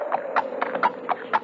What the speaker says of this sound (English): Don't tell me that's not a horse